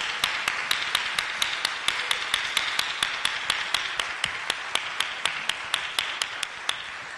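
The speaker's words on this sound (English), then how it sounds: "we should give them a big round of applause for all their work." Conference audience at a food justice gathering clapping in a steady, even rhythm, sharp uniform claps about three per second that continue without a break.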